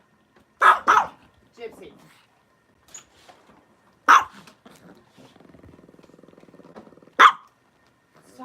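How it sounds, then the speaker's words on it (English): A few sharp dog barks spaced across the clip, separated by quieter stretches with a low rhythmic rumbling and a person's voice. "Nobody wants to hear you barking at 1 o'clock in the morning."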